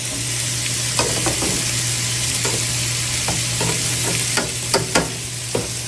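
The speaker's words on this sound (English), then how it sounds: "Always make sure whatever you're cooking, you give your cauliflower a nice stir" Cauliflower sizzles steadily in a hot pan while a utensil stirs it, making irregular soft scraping taps over the constant frying hiss, close up with no talking.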